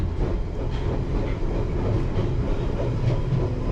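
A London Underground Piccadilly line train running near Hammersmith, a steady low rumble of motors and wheels with faint rhythmic clicks over rail joints, heard from inside the cab.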